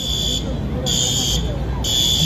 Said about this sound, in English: That's an alarm there.